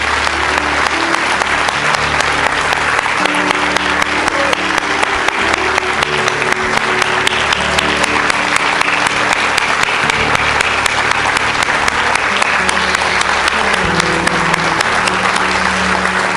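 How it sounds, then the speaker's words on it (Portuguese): A church congregation at a Sunday evening service claps loudly and continuously, with a steady organ or keyboard chord sustained beneath the dense applause. "Será que você pode aplaudir o Senhor por essa maravilhosa graça?"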